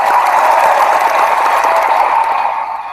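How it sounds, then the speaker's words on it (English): A round of applause during a tennis podcast: dense, steady clapping from a group that holds for about three seconds and fades slightly at the end. "so let's give him another applause."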